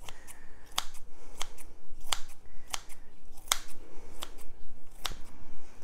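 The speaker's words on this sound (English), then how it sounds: "Pretty easy to chop up herbs with a nice pair of sharp kitchen scissors." Sharp kitchen scissors snip dried Usnea lichen (old man's beard) into pieces, a steady run of crisp, close cutting clicks roughly twice a second with no talk.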